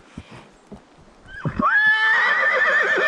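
A horse out on a ride gives a loud, close whinny of about a second and a half, with a rising, wavering tone that trails off. Before it come a few soft hoof knocks and breaths. No one speaks.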